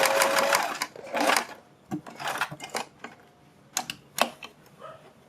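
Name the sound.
sewing machine stitching a strip onto a neck design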